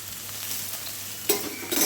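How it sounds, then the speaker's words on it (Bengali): Sliced bitter gourd fries in an oiled pan on a home stove with a steady sizzle, stirred now and then so the hiss briefly rises, while a low hum runs underneath. "এখানে উচ্ছেটা ভেজে নেব"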